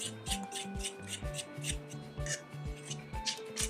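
A utensil scrapes and rubs in repeated short strokes along the bottom of a flour well with beaten egg, mixing fresh pasta dough for a romantic Italian dinner at home; close, steady, textured scraping with no talk.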